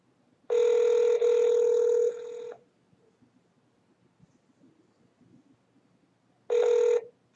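A telephone ringback tone for a call to a Washington senate office, with two long buzzing rings followed after a pause by the start of a third, clear and close with nothing else in between.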